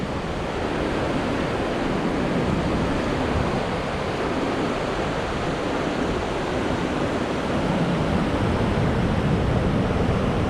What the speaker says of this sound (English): That's just the water falling on the rocks